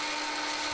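A drill press works as a makeshift lathe, spinning a roller for a homemade 2x72 belt sander grinder, giving a steady, even whirring hum with no voices.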